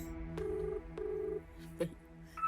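A phone call being dialed: two steady electronic tones repeat at an even pace, faint over a soft background hum, followed by a short clipped beep.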